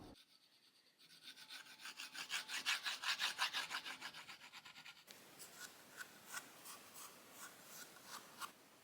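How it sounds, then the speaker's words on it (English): A steel burnisher is drawn back and forth under firm pressure along the edge of a card scraper, making quick, rhythmic metallic rasping strokes, loud and close, that change tone partway through. "I'm just running the burnisher back and forth"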